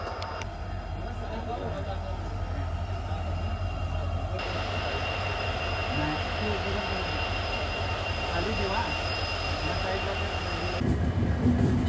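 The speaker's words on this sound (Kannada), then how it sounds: "ಈಗ ಜಸ್ಟ್ ನೀವು ನೋಡ್ರಿ ಚಾಲುಕ್ಯ ಎಕ್ಸ್ಪ್ರೆಸ್ ಕ್ರಾಸ್ ಆಗುತ್ತೆ" Chalukya Express train with an electric locomotive passing a crossing on a monsoon ghat route in Karnataka, a long steady rumble of rolling wagons with faint squeals, growing louder toward the end.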